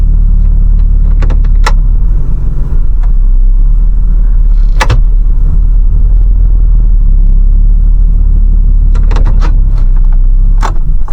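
A camping vehicle put in gear, with a loud, constant low engine rumble and vibration running throughout and a few brief clunks and rattles on top.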